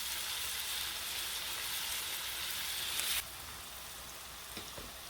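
Onion sautés in a pan for chicken pot pie with a steady hiss of frying that drops to a quieter sizzle partway through, followed by a couple of faint clicks.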